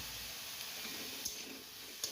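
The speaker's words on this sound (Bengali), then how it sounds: "এবার দেখো কড়াই বসিয়ে তাতে সর্ষের তেল দিয়ে আমি বেগুন দিয়ে দিলাম" Eggplant fries in mustard oil in a wok, giving a soft, continuous sizzling hiss at low volume with a couple of faint crackles.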